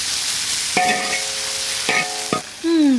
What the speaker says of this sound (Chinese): 剁辣椒炒香才行。